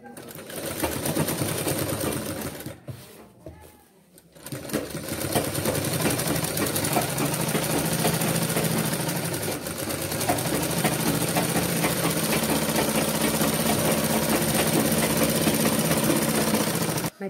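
A sewing machine runs fast and steady, stitching the seams of a medical apron, with a brief pause partway through before the stitching resumes.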